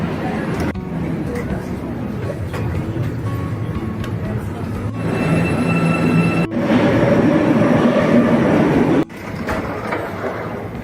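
Steady rumble of an Istanbul metro train in motion, loud and continuous, with rail noise swelling midway and a brief drop near the end; voices murmur underneath.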